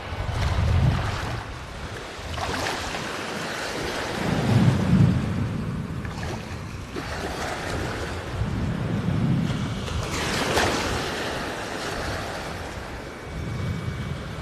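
Thunder from lightning over a beach rolls in several long, deep rumbles across the stretch, loud and close, layered over the constant wash of surf.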